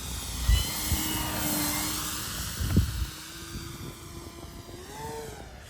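An E-Flite Super Timber 1.7m RC plane drones past overhead with a steady propeller and motor whine, rising and falling in pitch as it passes low in front. A few low thumps of handling or wind are heard alongside it.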